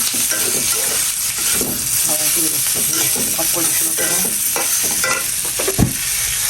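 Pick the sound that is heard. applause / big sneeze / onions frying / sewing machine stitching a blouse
onions frying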